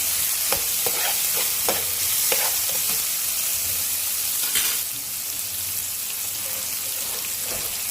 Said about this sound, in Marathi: कांदा चांगलं नरम होईपर्यंत शिजून घ्यायचा